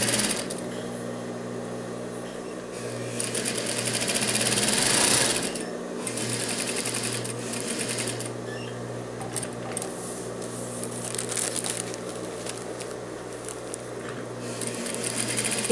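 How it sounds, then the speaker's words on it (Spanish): A sewing machine stitches along the overlocked edge of a facing for men's trousers: a continuous close whirring motor hum that runs steadily with a brief change in pace partway through, no talk. "Vamos a coser en medio del over en todo el contorno de la vista."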